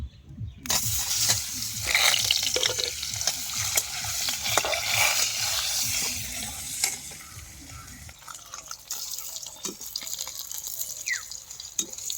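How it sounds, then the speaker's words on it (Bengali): An egg hits hot oil in a home kitchen pan with a loud sizzling burst that settles into quieter frying crackle, with a few clinks of utensils. "তেলটা গরম হয়ে যায়। ডিম দিয়ে দেব।"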